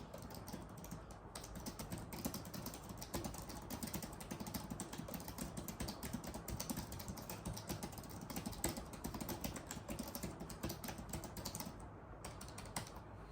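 Typing on the small-keycap keyboard of a Samsung Galaxy Tab S10 Lite, a quiet, steady stream of light plastic clicks and taps with brief pauses, close by.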